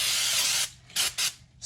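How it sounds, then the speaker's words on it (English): Brake cleaner sprayed from an aerosol can onto a RZR CVT clutch: one long, loud, close hiss followed by two short bursts and the start of a third. "spray it on there a little bit"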